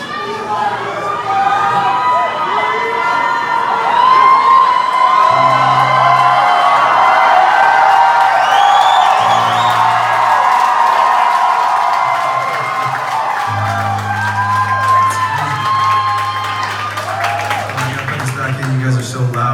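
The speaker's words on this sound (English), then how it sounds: "You guys are so loud, it's like deafening." A dense, loud concert crowd roars and cheers continuously at a live show at The Ritz in Raleigh, with sustained synth or bass tones sounding beneath the cheering throughout.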